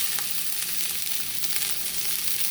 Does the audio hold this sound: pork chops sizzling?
yes